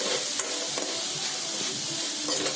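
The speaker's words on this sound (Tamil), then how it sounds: "அதோட திருவி வச்ச கேரட்டையும் போட்டு அதையும் நல்லா வதக்கிக்கணும்." Cabbage, grated carrot and tomato paste sauté in a pan for pasta, giving a steady close sizzle broken by the scrape and clatter of stirring.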